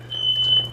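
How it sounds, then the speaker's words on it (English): A fire alarm in a resort room with a leaking roof gives a single short, sharp high-pitched beep, loud and close over a low steady hum. "Fire alarm's off."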